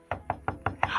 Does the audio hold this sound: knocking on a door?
yes